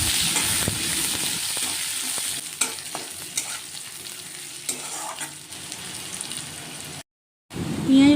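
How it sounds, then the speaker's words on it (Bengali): Chopped onion and garlic fry in hot oil in a pan for mung and masoor dal, giving a steady sizzle with scraping stirs that pauses briefly near the end. "এবার পেঁয়াজ কুচি, রসুন কুচি দিয়ে লাল লাল করে ভেজে নেবো।"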